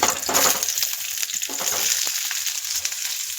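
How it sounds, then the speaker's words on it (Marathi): Onion sautéing in a spoonful of oil in a hot pan for a cauliflower curry, a bright hissing sizzle that flares loudly at first and then settles, with a few stirring scrapes, nearby and free of speech. "आता आपण त्यामध्ये एक चमचा तेल टाकून कांदा परतून घेणार आहे"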